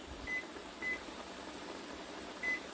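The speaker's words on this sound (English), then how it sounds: "So I'm going to turn on my microwave timer." Three short electronic beeps from microwave timer buttons, spaced unevenly, ring out clearly over a faint steady hum.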